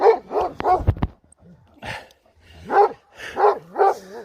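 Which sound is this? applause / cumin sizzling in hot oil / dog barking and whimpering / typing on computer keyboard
dog barking and whimpering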